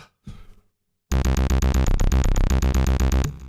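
A loud, fast repeating synth pattern from a Cubase MIDI arpeggiator plugin, evenly pulsed notes playing steadily for a few seconds, preceded by a brief quiet noise.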